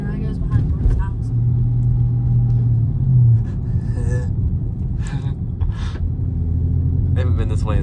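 A Dodge Charger R/T rumbles steadily from inside the cabin on a late-night drive, its low engine drone continuous and swelling briefly, with occasional voices talking over it.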